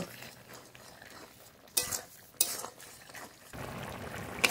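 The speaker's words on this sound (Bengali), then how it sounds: "চিনি এবার একটু নেড়েই নামিয়ে নেব।" Drumstick curry (sajne data chachchari) being stirred in a pan, a few sharp utensil scrapes and clinks against the metal over a soft background of cooking noise, heard close with no talk.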